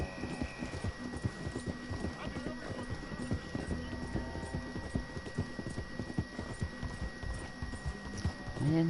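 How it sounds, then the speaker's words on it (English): A horse gallops in the video game Red Dead Redemption, with rapid rhythmic clip-clop hoofbeats throughout and a brief whinny near the end, under occasional talk. "And my super fast horsey."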